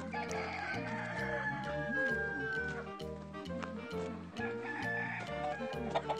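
Free-range Cheongye chickens clucking and squawking nearby on a farm, with a rooster crowing through the middle; a continuous busy chorus of poultry calls.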